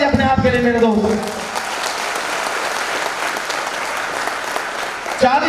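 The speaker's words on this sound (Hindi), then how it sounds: "दोनों हाथ में दोनों ताली अपने आप के लिए मेरे दोस्त।" Audience in a hall breaks into sustained, dense applause at a business motivational seminar, loud and steady throughout, with a voice heard over the clapping at the start.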